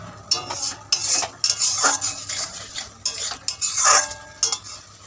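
A spatula stirs an okra curry in a pan with water, making busy, uneven scraping and clattering strokes against the metal, close and fairly loud, over a soft background hum.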